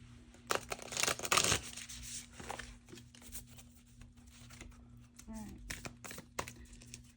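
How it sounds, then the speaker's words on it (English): Tarot cards are shuffled in a brisk riffling burst near the start, followed by quieter handling and soft rustling, with a low steady hum underneath. "Okay, one more shuffle"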